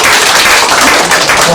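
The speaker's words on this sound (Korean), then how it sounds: "큰 박수 부탁드리겠습니다." An audience at a Korean community talk event gives a loud, dense burst of applause that fills the whole moment, with voices mixed in.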